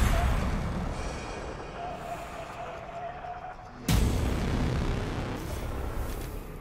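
A single loud explosion blast from a thrown explosion potion in The Evil Within 2 hits sharply partway through, over a dense, rumbling game soundscape.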